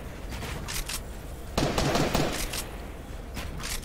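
Fortnite match combat with rapid bursts of gunfire and explosive blasts, including rocket fire, cracking in clusters with short gaps between, fairly loud and without voices.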